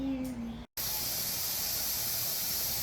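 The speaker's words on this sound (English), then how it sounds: "if y'all can hear it, I don't know if you can see the steam coming up off of that, but it's ready to go" Steady, broad steam hiss from a canner during home canning of peach pie filling, continuous and fairly loud after a brief gap, with a faint tone at the start and no talking.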